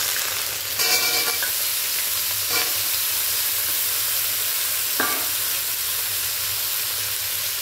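Pumpkin frying in a pan for a sour chutney, a loud steady sizzle broken by a few sharp scrapes and clatters of stirring, with no talking.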